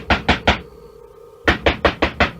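Loud knocking on a wooden door comes in two bursts: three firm raps, a short pause, then five more in quick even succession, close and sharp.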